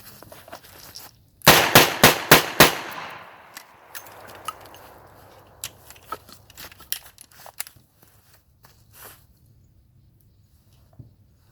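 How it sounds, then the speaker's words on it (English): A Smith & Wesson 586 revolver drawn from a shoulder holster fires five quick, sharp, loud shots at 7 yards, followed by clicks and handling sounds of a speed reload, with no talking. "7 yards, 5 shots from the draw, and we'll roll right into a speed reload"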